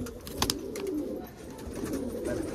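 Pigeons coo in low, rolling murmurs close by, with a couple of sharp taps and background rustling.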